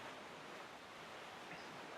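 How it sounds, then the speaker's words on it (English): Steady wind blowing over open sea in Zelda Wind Waker HD, a constant broad rushing hiss with no breaks and no voices. "As you can see, it's a little windy out here."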